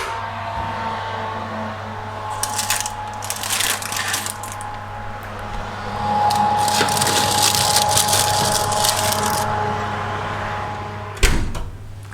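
A dish slides into a home oven and the door shuts, a few scattered clatters and clunks ending in one sharp close near the end, heard up close over a steady hum.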